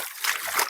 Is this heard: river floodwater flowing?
yes